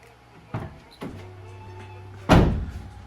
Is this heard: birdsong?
no